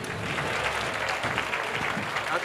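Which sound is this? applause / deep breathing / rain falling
applause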